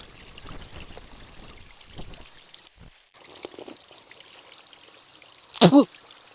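A natural spring on a mountain trail gives a faint, soft trickle of flowing water, then a short, louder splash near the end.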